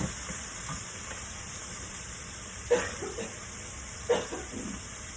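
Salt mackerel pieces being tossed and mixed in a pan: a soft steady sizzle with two distinct scraping clatters of the food being turned, close and without talk.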